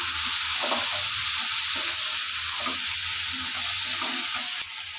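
Boiled peas and potatoes are sautéed in a pan for ghugni, giving a constant loud sizzle broken by rhythmic stirring scrapes, close up, which drops off slightly at the very end.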